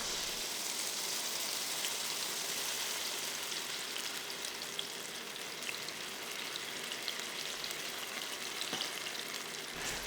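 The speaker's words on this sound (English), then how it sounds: "Fry this for about 5 minutes or so till it becomes fragrant and relatively dry" Spice mix frying in hot oil in a pot over medium heat gives a steady, dense sizzle with fine crackling that runs unbroken from start to finish, close and even in level.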